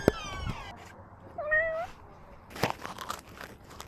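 Cat meowing as heard from a small camera clipped to its collar, a few close, short meows and chirps amid rustling and crinkling movement noise.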